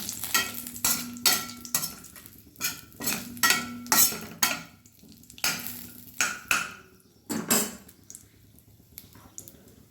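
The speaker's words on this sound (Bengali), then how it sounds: "এবার ফোড়নটা ভালোভাবে একটু ভেজে নেব।" Bay leaf, dried chili and cardamom fry in oil for a shol fish dish, with repeated spatula scrapes and clatters against the pan coming in uneven bursts over a low sizzle.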